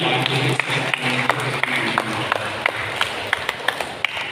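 A church congregation at Sunday service claps in scattered, uneven bursts, with sharp individual hand claps standing out over a murmuring room, while a voice speaks over a sound system beneath.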